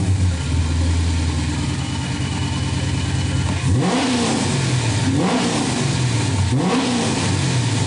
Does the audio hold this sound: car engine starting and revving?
yes